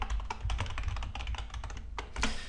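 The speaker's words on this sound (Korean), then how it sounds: "갤럭시 S라고 적어주고요." Quick close clatter of keys as a folder name is typed on a computer keyboard, a fast uneven burst of clicks with no voice.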